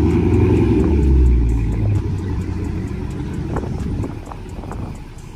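A tuned Dodge Charger on a dyno gives off a loud, heavy engine rumble that booms at first, then drops to a rougher, lower drone with scattered knocks and clicks.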